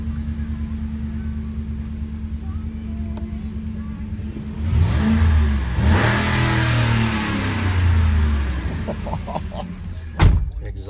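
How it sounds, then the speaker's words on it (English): A lifted 2013 Ford Raptor truck idles with a deep exhaust burble, then revs hard several times in close succession, rising and falling, before dropping back to idle; a door clunk follows near the end. "Exhaust sounds incredible."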